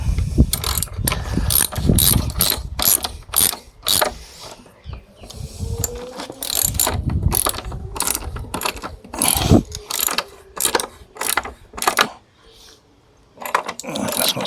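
A ratchet clicks in quick bursts while a hugger mount is tightened on a Yamaha Fazer 600 outdoors, with rapid pawl clicks in stop-start runs and short pauses between strokes, close and crisp.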